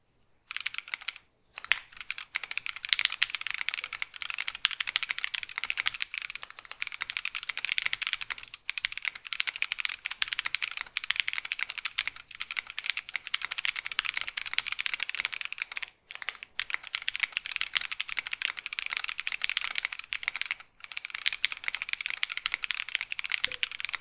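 Typing test on Mint linear keyboard switches fitted with CRP keycaps: a dense, steady stream of close, crisp keystroke clacks with brief pauses, continuing for the full stretch with no talking.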